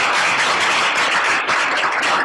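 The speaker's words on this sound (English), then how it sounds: "Another round of big applause." An audience gives a full, sustained round of loud applause at a cultural event about South Korea, with dense clapping and no break.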